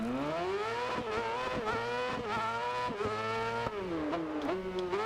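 Engine of a small rally car in DiRT Rally 2.0 revs and drops through repeated gear changes, a loud, continuous buzzing drone with tire scrubbing underneath, no talking.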